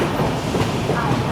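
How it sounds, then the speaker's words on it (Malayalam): An RCF-built Central Railway MEMU train, the Chiplun–Diva special service, rumbles loudly and steadily close by, with a dense rolling roar and faint wheel clatter throughout. "സെൻട്രൽ റെയിൽവേയുടെ മെമോ ആണ് ഇത്"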